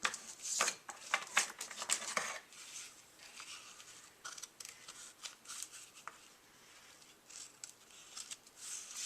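Scissors snipping through card during papercraft for a cup of soup holder, a quick run of crisp, close cuts at the start, then quieter scattered rustles and small clicks.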